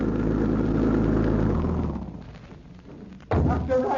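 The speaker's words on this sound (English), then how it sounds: "Doesn't that sound like their car?" An older car approaching with a low engine rumble that fades down, then a sudden loud thump near the end, like a door or the car pulling up close.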